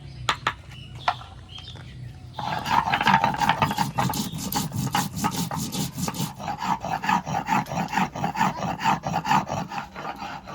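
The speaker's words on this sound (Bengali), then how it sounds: "এবার জিরেটা বেটে নেব।" Cumin being ground by hand on a flat grinding stone, a steady rhythmic rasping scrape of stone on stone, close and fairly loud, starting after a quieter opening and continuing without speech.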